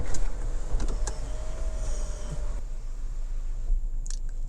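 On a 2024 Hyundai Santa Fe Calligraphy 2.5T AWD, the power moonroof opens with a soft click of the button, then a smooth electric motor hum that runs and stops, followed by a faint click.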